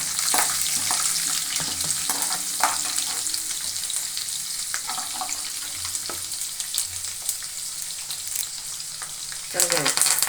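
Dried chillies and crushed garlic fry in oil for puliyogare, a close continuous sizzle with stirring scrapes throughout and a louder burst near the end.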